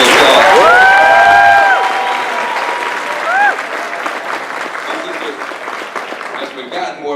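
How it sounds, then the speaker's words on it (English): An audience applauds Professor Michelle Scott, a scholar of black music and social activism, with dense clapping and some cheering at close range. Brief whistle-like tones rise over the start, and the applause thins gradually toward the end. "Give her a round of applause."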